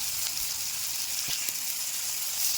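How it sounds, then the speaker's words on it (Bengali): Ground ginger, cumin paste, chili powder, salt and sour yogurt fry together in a pan, giving a loud, continuous close sizzle with faint stirring, no voices. "মশলাগুলো এবার একসাথে ভালো করে কষে নেব"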